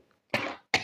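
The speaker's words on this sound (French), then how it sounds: "même quand je le fais, j'arrive à tousser" A single sharp cough bursts out close by, followed a moment later by the start of a second cough, with no talking around it.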